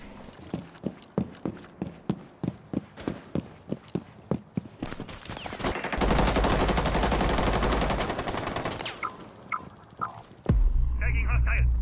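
Suppressed gunfire in Rainbow Six Siege, a run of sharp muffled shots in steady rhythm followed by sustained rapid firing and background game noise, with a voice talking over it.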